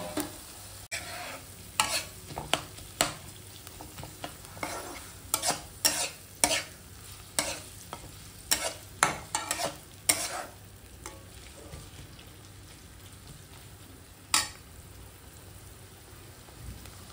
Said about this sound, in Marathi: त्याला पण फ्राय करते.